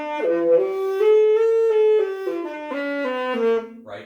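A saxophone plays a smooth connected scale with the tongue resting idle on the reed, so notes shift without distinct articulation, sustained and clear, ending with a brief small noise.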